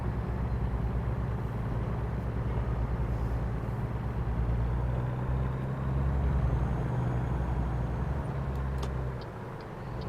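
A heavy truck engine in American Truck Simulator drones and revs steadily as it pulls away, a loud continuous low rumble that eases off near the end.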